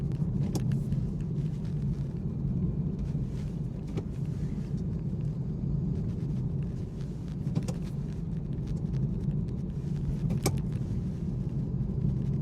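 A BMW with a B58 engine and a carbon short shifter driving at steady speed: a continuous low engine and road rumble fills the cabin, broken by a few faint clicks.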